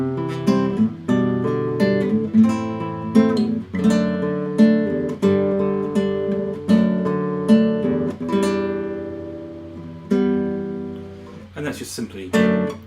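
An acoustic guitar plays the chord progression of a song, each chord strummed or picked in a steady, gentle rhythm, clear and close, with no talking over it.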